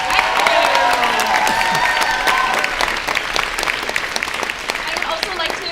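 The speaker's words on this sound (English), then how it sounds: "So let's hear a big round of applause for our" A theatre audience at a student musical production claps heavily, with scattered whoops and cheers rising over the dense clapping, which thins slightly toward the end.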